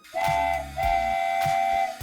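Two long, bright whistle blasts from a toy train, close and loud, each with a chuffing, steamy rumble underneath.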